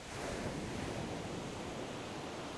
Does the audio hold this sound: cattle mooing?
no